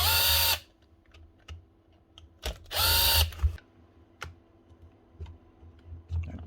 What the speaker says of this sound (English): Take out these 4 screws.